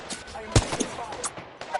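Gunfire in a team-based shooter video game, with several sharp, separate shots and bursts at mid distance over game ambience and faint voice chatter.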